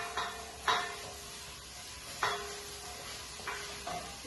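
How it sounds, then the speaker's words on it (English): Onions and garlic softening in a pan are stirred in a few separate scrapes, with a low sizzle running steadily underneath, close and fairly quiet. "give your onions and garlic a little stir."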